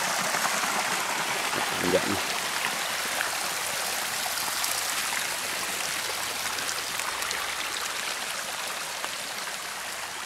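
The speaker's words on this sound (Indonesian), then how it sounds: "Kita lihat punca airnya." Hot spring water at a Besut pool flows steadily from its source, a continuous close rushing wash with no pauses.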